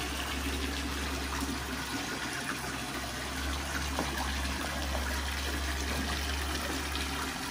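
Mountain spring water from a village fountain in Douma, Lebanon runs in a steady, continuous splash and gush, moderately close, with a low hum underneath and no talking.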